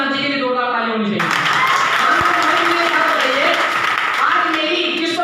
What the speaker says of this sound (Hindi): रामदास जी के लिए 2 ताली होनी चाहिए।